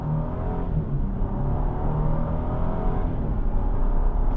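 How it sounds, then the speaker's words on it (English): A 2025 Nissan Armada PRO-4X gathers speed, its engine heard from inside the cabin as a steady, even drone with road and wind noise, moderately loud and with no talk. "Car picks up speed quickly."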